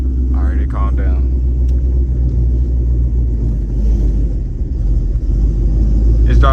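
Deep, loud, steady exhaust rumble from a cold Ford Mustang 5.0 Gen 2 fitted with an aftermarket exhaust, close up and droning throughout, with a man's short remarks at the start and end.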